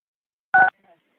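A single short two-tone phone keypad beep, like a touch-tone press on a conference call line, loud and clean. A tiny fainter blip follows right after it, then silence.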